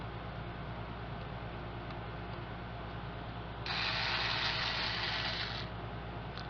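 A tiny screw being backed out of the Wi-Fi board inside an Acer 8372T laptop gives a soft ratcheting, clicking rasp over a steady low hum, swelling into a louder, brighter burst for about two seconds near the end.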